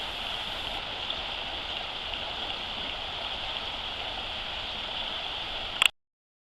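The Patapsco River flows steadily near old railway tunnels, a continuous broadband rush of water that stays even and fairly close throughout before a brief clatter at the very end.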